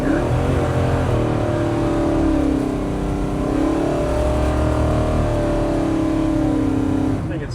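A 510 hp 1972 Chevy Nova pulls steadily under power, its engine droning loud and close with smooth rising pitch and a soft shift midway, with no break in the sound.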